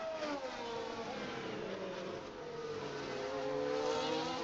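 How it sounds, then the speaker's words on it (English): A Porsche race car engine in the F1 Manager 2023 racing game drones steadily as it nears a chicane, its pitch sliding slightly down and then rising again. It stays fairly faint and continuous, with no talk. "Porsche coming up to the chicane."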